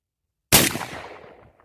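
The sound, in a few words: revolver gunshot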